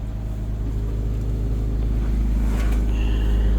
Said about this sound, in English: I got this bus doing a regen right now